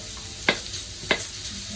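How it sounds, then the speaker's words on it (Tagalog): Pork belly frying in oil in a home kitchen, a soft continuous sizzle with two sharp, brief spatters or stirs close by. "Papamantikain lang natin itong pork belly na ito."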